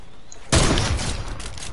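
Sniper gunfire in a video game: after a short quiet lead-in, a single sharp, loud shot bursts out and trails into a long, booming echo.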